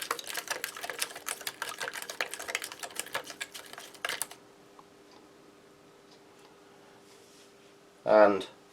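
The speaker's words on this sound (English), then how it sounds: "So we just add the water. I have a spork here." A spork stirs field ration mix with water, heard as rapid rhythmic scraping and clicking for about four seconds, then quiet room tone and a brief loud burst near the end.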